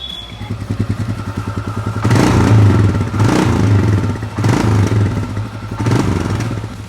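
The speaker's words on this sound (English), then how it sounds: "the engine has been started for the very first time" A modified Royal Enfield Himalayan fitted with a 500cc NMW Racing big bore kit, started for the first time, idles with a close, even single-cylinder thump, then is revved in three or four loud surges that drop back to idle.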